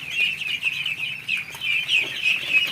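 A flock of 25-day-old ducklings keeps up a dense, high-pitched peeping, many small calls overlapping in a steady chatter close by.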